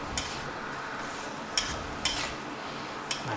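Pork stir-fried with ginger in a pan gives a soft, continuous sizzle, broken by a few sharp scrapes and clacks of a spatula against the metal at uneven intervals.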